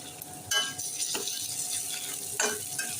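Ginger-garlic paste frying with browned onion in a pan for masale bhat, a soft sizzle broken by a few scraping stirs and light clinks of a spoon against the pan.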